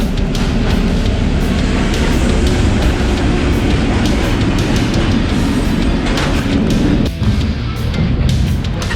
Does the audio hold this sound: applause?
no